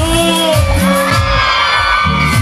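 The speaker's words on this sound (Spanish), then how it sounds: "el grito para Renzo" A crowd at a youth gathering in Villa Celina, Buenos Aires, Argentina cheers, whoops and shouts in loud rhythmic bursts, close and continuous, with no clear speech.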